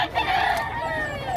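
A fighting rooster crows once, close and loud, a short drawn-out call at a gamecock and pet market in Bocaue, Bulacan.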